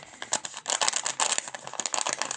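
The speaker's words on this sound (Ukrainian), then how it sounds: "Дуже шуршавий такий в нас пакетик." Close, continuous crinkling and rustling of a plastic packet being handled, irregular crackles with no talking.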